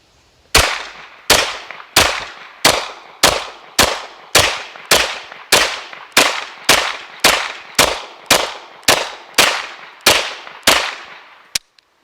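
Fifteen sharp, loud gunshots from a Kel-Tec Sub 2000 Gen 3 carbine ring out in a steady, evenly spaced rhythm, each crack decaying quickly before the next, followed by a faint metallic click at the end.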